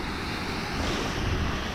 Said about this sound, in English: So there's a little waterfall there.